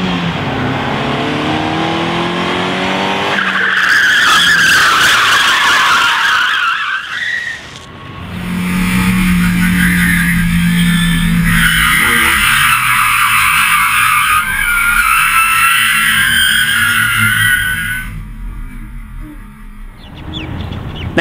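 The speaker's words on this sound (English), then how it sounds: "I lost control of the vehicle for one simple reason: the tyres did not provide the grip" A car's tyres lose grip and skid out of control, with long, loud screeching bursts in two main stretches and a brief lull between, over engine noise.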